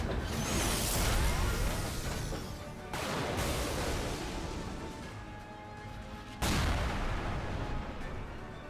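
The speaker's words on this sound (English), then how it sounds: "Covering fire! Maximum power machine gun!" Machine-gun covering fire in the video game Tiny Metal: dense, continuous rattling bursts with mechanical clatter. It cuts off abruptly twice and resumes at full loudness each time, with no speech.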